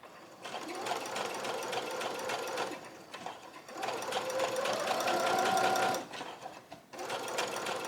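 A sewing machine runs slowly straight across fabric for a rose scrunchie, a steady close rattling hum in two long runs broken by a brief pause, then starting again.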